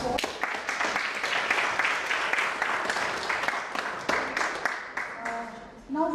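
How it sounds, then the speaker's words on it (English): Audience applause at a conference session during a members' residential refresher course at a beach resort, a dense, steady clatter of many hands lasting several seconds before tapering off near the end. "let us have another round of claps for"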